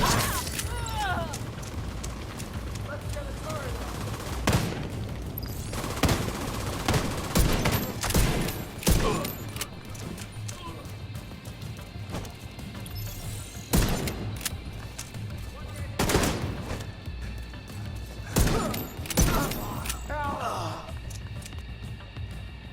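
Rapid bursts of rifle gunfire from the Diamondback in The Division 2 video game, several loud volleys and sharp shots spread across the clip over a steady background rumble of combat.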